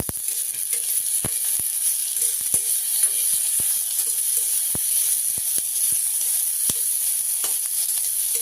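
Tomatoes roasting in a hot pan after onions, a continuous bright sizzle with scattered sharp clicks and taps of a utensil against the pan, close and steady throughout.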